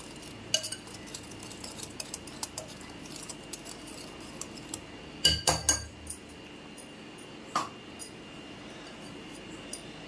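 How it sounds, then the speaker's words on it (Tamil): A spoon clinks and scrapes against a bowl while stirring sweet tea-shop bonda batter, a string of light metallic taps with a few louder knocks near the middle. "ஒட்டுக்கா கலக்கி விட்டுட்டு அப்புறம் தண்ணி ஊற்றி பிணைஞ்சிக்கலாங்க"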